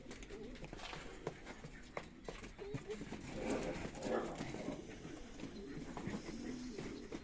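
Racing pigeons coo softly in the background of a room, low murmuring calls repeating amid faint rustling and shuffling.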